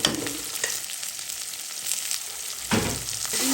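Onions and whole green chilies fry in a pan with salt and turmeric, a close, steady sizzle with a few louder bursts of stirring, alone without talk.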